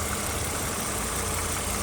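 A 2010 Lexus RX350 engine idles steadily with the hood open, a continuous broadband hum and whir with no talk over it.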